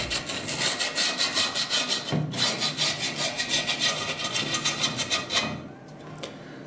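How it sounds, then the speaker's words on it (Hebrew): Sandpaper rubs back and forth along the grip tape edges of a stunt scooter deck in fast, even strokes, loud and close, with a brief pause near the middle and the scraping tapering off toward the end. "את הנייר שיוף ששמרנו אני בעצם מתחיל לשייף"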